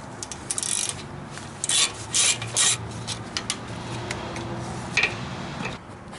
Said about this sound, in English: Remove this 10mm bolt that holds on this brake hose support bracket.